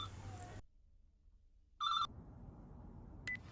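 A phone rings in short electronic bursts, one strong ring in the middle and a brief second chirp later, set between quiet gaps and a low background hum in an animated scene.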